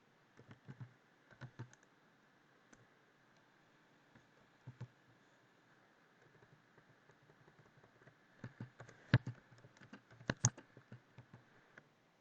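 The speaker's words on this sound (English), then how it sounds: "go on Google and type in World of Warcraft" Keys clatter on a computer keyboard in irregular bursts while a search for World of Warcraft is typed in, with pauses between runs of taps and a few louder clicks near the end; faint, close and with no talking.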